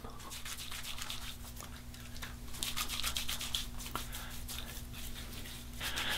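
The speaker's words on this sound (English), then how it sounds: "Just scoop out a bit right into the fingertips and massage that into the beard." Proraso sensitive-skin pre-shave cream being massaged into a beard with the fingertips, a close, steady bristly rubbing and scratching that swells and fades in repeated strokes, with no talk.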